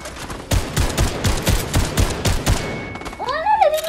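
Rapid bursts of video game gunfire crack in a quick volley, then a rising electronic whine sweeps in near the end; the shots sound synthetic and game-like.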